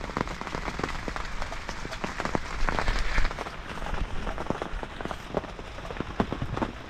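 Heavy rain pours down outside a bivvy at night, a steady dense patter with sharp individual drops hitting close by the fabric, continuous and loud throughout.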